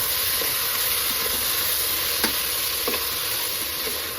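Tomatoes frying and being stirred in a pan for tomato bath, a steady loud sizzle and hiss throughout with a few scraping stir clicks, no voices.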